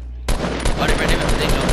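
Rapid video game gunfire aimed at an enemy base, loud and dense, starting abruptly after a brief quiet moment and continuing as a sustained burst of repeated shots with faint voices beneath.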